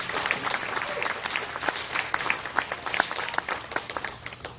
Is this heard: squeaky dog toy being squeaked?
no